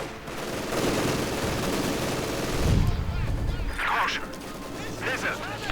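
Bursts of MG-42 machine gun fire from the Company of Heroes 2 battlefield, dense and continuous, mixed with explosions and other combat noise under a commentator's voice.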